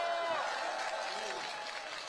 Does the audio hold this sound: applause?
yes